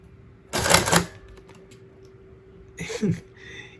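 Vintage Casio printing calculator resetting and printing: two short bursts of clattering mechanical print-head rattle, close and fairly loud, separated by a quiet gap with a faint steady hum underneath.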